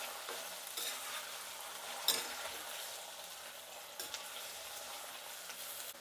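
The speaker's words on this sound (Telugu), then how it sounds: "ఇలా కలుపుతూ చేసుకున్నాం అంటే బాగా ఫ్రై అవుతాయండి" Horse gram frying in a pan while being stirred, a steady dry sizzle with scattered scraping strokes and one sharp clatter near the middle, close but soft, with no voices.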